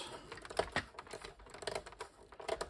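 Light clicks and plastic taps come from an Atari 800 home computer keyboard as it is unplugged, a quick run of small, close, irregular knocks in a quiet room.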